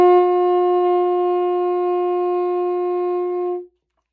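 Saxophone holding a single steady upper-octave D played with the register key, a pure sustained tone lasting about three and a half seconds, close and alone, ending cleanly.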